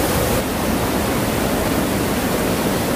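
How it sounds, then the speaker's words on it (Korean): A rain-swollen valley stream after a typhoon roars like a waterfall, a steady loud broadband rush of water filling the whole clip with no voices. "완전 폭포수가 됐는데?"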